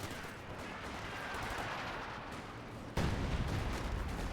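Battle sounds from a World War II real-time strategy game: a dense, continuous rattle of rifle and machine-gun fire with heavier artillery thumps, growing louder and harsher near the end, with no voices.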